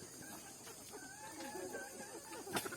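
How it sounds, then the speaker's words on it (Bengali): Kadaknath chickens, a black-fleshed breed, clucking softly while feeding and moving about, a few short, faint calls over low background noise. "এর নাম হচ্ছে করকনাথ মুরগি"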